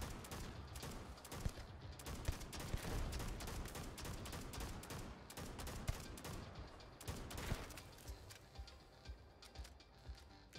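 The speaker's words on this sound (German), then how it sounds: "Fängt er schon an zu schießen hier." Rapid gunfire in the video game Starfield, with repeated sharp shots and bursts crackling over a dense, continuous battle din at moderate loudness, with no one talking.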